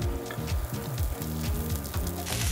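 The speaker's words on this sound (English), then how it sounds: "That sizzle, that's beautiful music right there." A5 Kobe beef steak sizzling on a grill at a ryokan in Kobe, Japan: a continuous close, crackling fry hiss with steady intensity and no voices.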